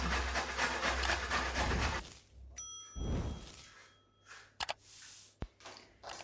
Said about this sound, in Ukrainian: Середню морквин натираю на великій терці